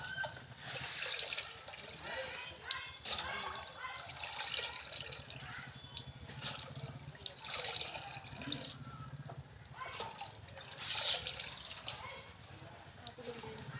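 Leafy greens are washed by hand in a basin of water to rinse out sand, with soft continuous splashing, dripping and swishing that runs under a voice talking throughout.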